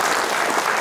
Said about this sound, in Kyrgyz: сезим алтын кызыма кол чаап койгулачы